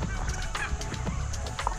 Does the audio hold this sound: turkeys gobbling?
yes